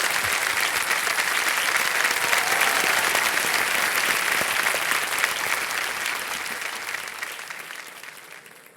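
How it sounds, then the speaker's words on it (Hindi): Loud, sustained applause from a studio audience on the TV quiz show Kaun Banega Crorepati, a dense wash of clapping that slowly fades toward the end. "एक बार फिर तालियों के साथ आपका स्वागत"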